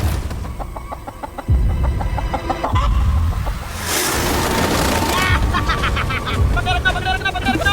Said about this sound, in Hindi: ये चिकन तो काफी शांत है